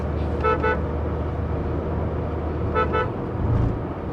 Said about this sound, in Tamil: ஓ எயிட்டிக்கு ஒரு ஸ்பீடு வார்னிங் வந்துடுதுங்க